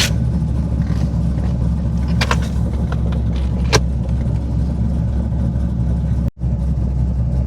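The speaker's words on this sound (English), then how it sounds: "I always let this thing warm up at least a minute or so" A cammed C5 Corvette engine idles while warming up, a loud, steady low rumble with a slight lope, broken by a couple of faint clicks and one brief dropout near the end.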